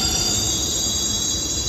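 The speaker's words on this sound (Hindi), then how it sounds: "मेट्रो आ चुकी है" A metro train rolls into a station with a loud, steady rumble and high-pitched wheel squeal, heard close and continuous with no talking.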